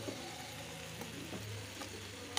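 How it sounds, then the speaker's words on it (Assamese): Fried meat and potatoes are added to a hot pan of cooking food and stirred, giving a soft steady sizzle with faint scraping and a sharper clink near the end, no voices. "এয়া মই মাংস আৰু আলু যে ফ্ৰাই কৰি ৰাখিছিলোঁ এয়া ইয়াতে দি দিম"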